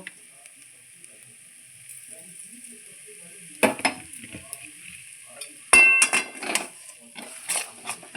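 Spiced onion kachori filling is stirred in a pan over low heat, a soft sizzle running under scattered scraping and clinking of a spoon against the pan, with louder bursts of stirring toward the end.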